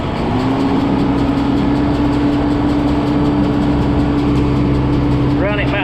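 A farm tractor runs steadily with its PTO engaged to drive a hay pickup head, a loud, constant engine drone with a sustained whine and no change throughout.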